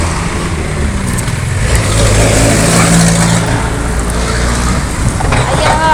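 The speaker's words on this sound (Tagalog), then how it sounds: "Traffic kaayo. Maraming sasakyan, pero traffic." Dense street traffic with many vehicles passing by a pedestrian, a steady rumble of car and motorcycle engines close by and loud, with swells as vehicles go past.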